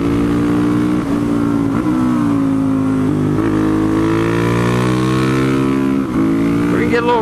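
A supermoto motorcycle engine revs hard and close, a loud continuous buzzing drone that swells and dips in pitch with short throttle blips.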